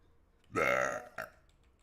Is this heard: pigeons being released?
no